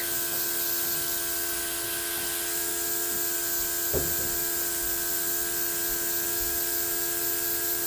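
A Luminess Legend airbrush is emptied with the trigger pulled back, spraying continuously, a steady loud hiss with a faint mechanical hum underneath and a small click partway through.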